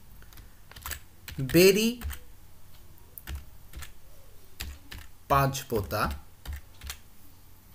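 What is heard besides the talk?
typing on a computer keyboard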